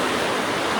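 Sea waves washing onto a beach in Sardinia, a steady broadband rush of surf with no distinct breaks, close and fairly loud throughout.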